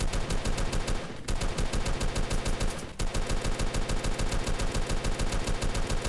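Video game gunfire in a base battle: sustained rapid automatic fire in a steady machine-gun rhythm, loud and close, with two brief pauses in the stream and no talk over it.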